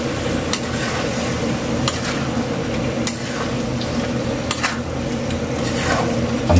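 Chicken liver stirred and sautéed in a pan with chili for adobo, a steady close sizzle with scraping stir strokes and occasional clinks throughout, no talking.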